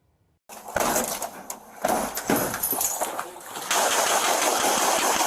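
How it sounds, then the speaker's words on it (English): Loud, rapid bursts of gunfire crackle in quick succession, growing into a dense, sustained volley toward the end. "that is when they were met with gunfire"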